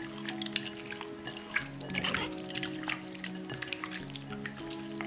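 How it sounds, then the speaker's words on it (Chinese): Chicken wings, already rubbed with starch, are washed by hand in a bowl of clean water, with splashing, dripping and squelching handling sounds at close range, moderately loud and irregular, and no talk. "倒入清水，多洗两遍"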